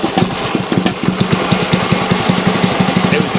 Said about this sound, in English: now I've got that machine running as low as I can get it